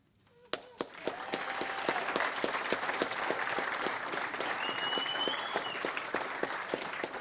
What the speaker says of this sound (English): I would just like to applaud Chris again